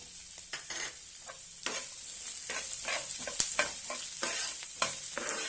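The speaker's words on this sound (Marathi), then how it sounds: "आता यामध्ये एक कांदा बारीक कट केलेला आहे तो घालूया।" Finely chopped onion sautéing with curry leaves in hot oil for brinjal chutney, a steady sizzle broken by repeated scraping stirs of a spatula against the pan, close and clear.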